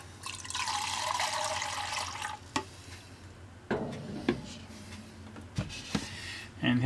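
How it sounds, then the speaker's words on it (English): Fresh water pours from a container into a reticulated python's water dish, a steady gurgling stream for about two seconds followed by drips, clunks and handling noises. "I'm going to give him some fresh water."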